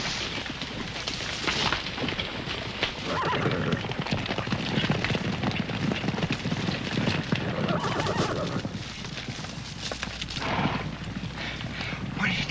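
A horse whinnies and snorts while its hooves clip-clop and scuffle on the ground, loud and continuous throughout the scene.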